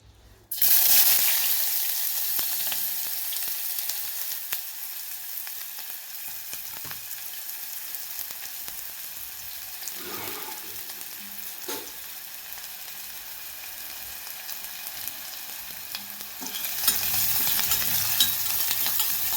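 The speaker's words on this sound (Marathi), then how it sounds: "तर इथं कांदा भाजून घेऊया व्यवस्थित असा." Chopped onion frying in hot oil in a pan, a loud continuous sizzle with occasional stirring scrapes that swells again near the end.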